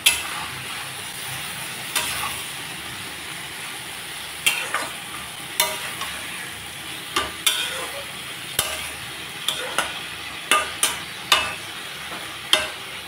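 Three chopped tomatoes frying in a pan for a tangra fish curry, a steady close sizzle with repeated sharp clinks and scrapes of stirring every second or so, no talk.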